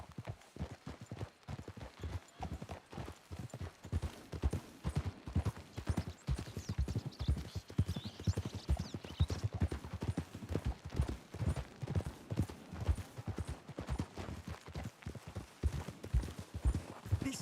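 Horses trot through a Red Dead Redemption 2 game world, a steady, dense clip-clop of hooves running close and loud the whole way, with a brief whinny now and then.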